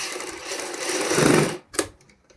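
A sewing machine stitches the front neck of a kurti in a short whirring run that speeds up, stops, then gives one brief final burst.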